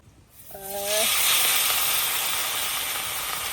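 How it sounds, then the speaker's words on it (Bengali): Pieces of rohu fish drop into hot mustard oil in a pan and set off a loud, sustained sizzle and hiss, rising quickly and holding steady, with a brief tonal clink at the start. "তো তেল আমার গরম হয়ে গেছে আমি এখন মাছগুলো ছেড়ে দেবো"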